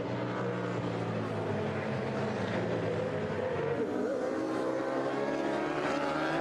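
Superbike race motorcycles at Silverstone during a British Superbike race, engines blending into a continuous, distant roaring drone as the pack passes, with commentary audible faintly beneath.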